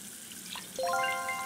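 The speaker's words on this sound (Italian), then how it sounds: "apri l'acqua" A tap is opened and water starts running from it, a sudden gush that begins partway through after quiet background, then keeps flowing steadily and fairly close.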